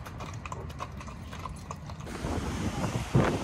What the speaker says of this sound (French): 4 chevaux.